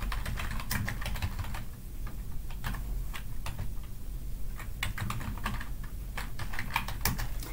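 A computer keyboard is typed on in quick, quiet bursts of clicks with short pauses between them. It sounds close but faint, and there is no talking.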